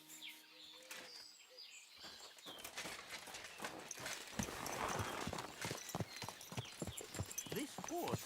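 Horse hooves clip-clop in the medieval video game Kingdom Come 2, starting sparse and building into a quick, close, uneven rhythm, with birds chirping in the background and faint voices near the start.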